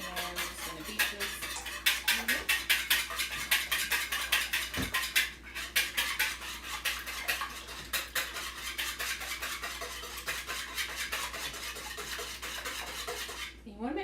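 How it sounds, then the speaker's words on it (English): A wire whisk beating a mixture in a bowl, rapid rhythmic metallic clicks and scraping strokes repeating closely and steadily, with a brief pause midway. "Take a whisk, and I'm just going to beat this."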